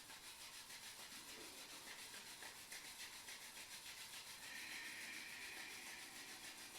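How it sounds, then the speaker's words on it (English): Palms rubbing briskly together during a slow yoga session, a steady, soft, close-up swishing friction that runs for several seconds without a break. "bringing the hands in front of you and rubbing the palms together"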